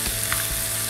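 Chicken pieces fry skin-side down in a dry pan, giving a loud, steady sizzle and crackle that fills the whole moment with no voices.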